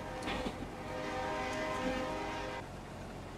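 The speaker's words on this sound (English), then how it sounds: "Looks like a truck's coming down my way." A big truck rolls past on an Australian farm with a steady, loud engine drone and a long sustained horn-like tone, building and easing over a few seconds with no talk.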